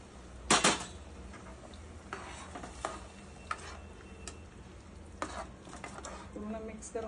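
Drumstick pods clatter into a pan of frying masala, followed by boiled water poured in. A few sharp knocks come first, then a soft sizzle and rising splashy noise, close and fairly quiet, with no talking.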